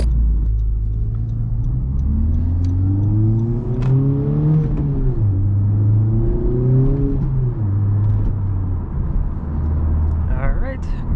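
A Honda Civic Type-R in sport mode pulls through a U-turn with a loud, close engine drone whose pitch rises and falls twice, and synthetic engine sound is layered over the cabin rumble.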